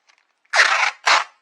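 Two quick crisp scissor snips through junk journal cover material, close and sharp, the first longer than the second, with a short pause between and silence around them.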